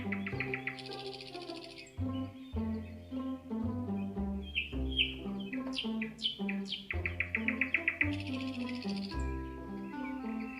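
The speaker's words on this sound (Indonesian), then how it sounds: "Seperti apa ya suara burung berkicau?" Birds chirp and tweet in a short bird video, with bright high calls and quick rising sweeps set over steady, loud musical tones.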